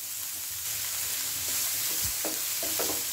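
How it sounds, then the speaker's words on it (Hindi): Chopped onions frying over high heat in a pan, a steady, dense sizzle filling the clip with a few faint stirring scrapes, close and with no talking. "इसे तेज आंच करके हल्का ब्राउन होने तक इसको हम भूनेंगे"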